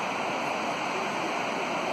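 A fast, rain-swollen river overflowing its banks in Alaska, heard from a deck as a steady, dense roar of rushing water, continuous and fairly close, with no voices.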